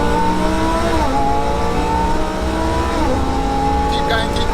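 Twin-turbo, roughly 1200 bhp Lamborghini Huracan accelerating hard, heard from inside the cabin as a loud, continuous rising engine roar with gear-change dips, with a voice talking over it.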